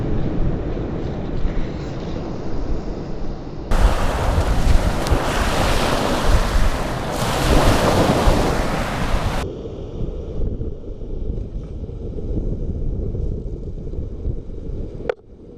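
Strong wind roars across a beach and blasts the microphone in heavy gusts, mixed with the continuous rush of surf, loud and unbroken throughout.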